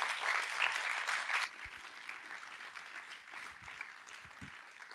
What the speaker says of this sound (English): I think she deserves another round of applause for that.